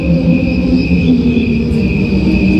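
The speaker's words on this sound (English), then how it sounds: "that's actually crickets slowed down to the tempo of humans" Slowed-down cricket chirping, stretched to a human tempo so it becomes a steady, layered drone of sustained choir-like tones, continuous and fairly loud throughout with no pauses.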